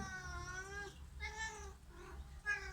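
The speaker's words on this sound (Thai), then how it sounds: "เหมียวมาจากไหนหรอตัวนี้ตัวใหม่ ไม่เคยเห็น" A cat of unfamiliar markings, found in a back-kitchen at home, gives three drawn-out meows in a row, loud and close, with a short pause between each call.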